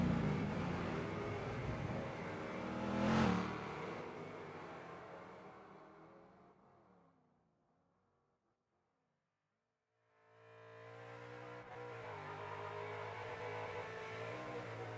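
Race car engine in the Wreckfest 2 racing game, a loud strained roar with a revving burst early on, cutting out to near silence for a few seconds before the engine drone returns steady and lower.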